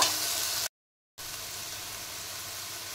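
Ivy gourd leaves stirred in a hot wok give a steady, fairly quiet sizzling hiss that cuts out completely for a moment and then resumes, even and close, with no voices.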